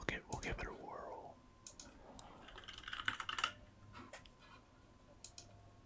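Close, quiet computer keyboard typing in irregular bursts of soft clicks, with faint whispering mixed in between the keystrokes.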